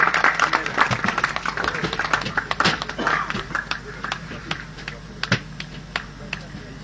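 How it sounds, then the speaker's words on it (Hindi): Audience applause at a satsang gathering: scattered, uneven clapping with sharp individual claps over a low crowd murmur, moderately loud and continuing throughout. "सभी लोग जोरदार ताली बजाए"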